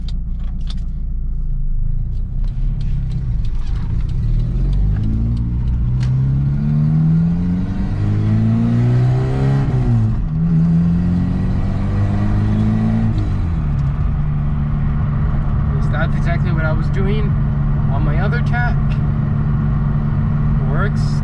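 A Toyota car with a newly installed tachometer is driven on a short test run, its engine rumbling steadily and rising and falling through several revs, with talk over parts of it.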